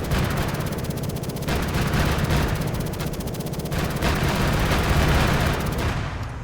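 Anti-aircraft gun in Arma 3 firing long, rapid bursts of dense, booming shots, loud and close, with brief pauses between bursts before the firing trails off at the end.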